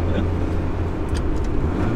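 A right-hand-drive Honda Civic wagon drives along with a steady low engine and road rumble heard from inside the car, loud and continuous, with a voice briefly over it.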